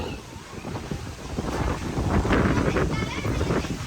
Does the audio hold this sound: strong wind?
yes